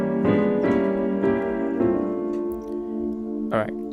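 Piano chords moving through diminished passing chords, several struck chords ringing out in a steady sequence, close and moderately loud with no talking.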